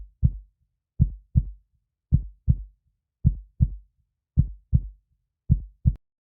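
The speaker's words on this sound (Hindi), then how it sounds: "उसका दिल और तेज धड़कने लगे।" Heartbeat sound effect for a suspenseful ghost story set in a haunted hotel: regular lub-dub pairs of deep, soft thumps, about five double beats repeating steadily and slightly quickening, isolated against silence.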